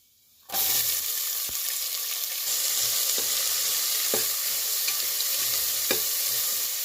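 Chopped onions drop into hot spiced oil in a pan for a Tamil soya bean curry, bursting into a loud, steady, close sizzle with a few sharp stirring clicks of a spoon against the pan.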